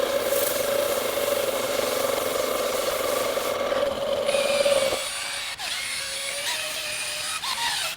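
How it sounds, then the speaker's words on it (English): A coarse drill brush spins against tire rubber flecked with paint speckle, giving a loud, steady whirring scrub with a constant tone for about five seconds, then a brief pause before a higher-pitched run resumes nearby. "Got a lot of paint speckle on the rubber, and I'd like to use a coarse drill brush."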